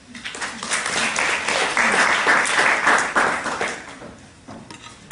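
An audience applauds at a university panel event in Sydney, the clapping swelling quickly into a dense, even roar and then thinning toward the end, with a little voice activity beneath.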